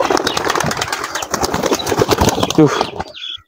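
Pigeons at a bird market, with wing flaps and bird sounds mixed into dense, loud crowd chatter and people talking nearby, ending in near quiet.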